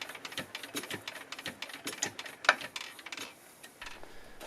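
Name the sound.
diesel engine hand-cranked without fuel injection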